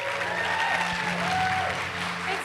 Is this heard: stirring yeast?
no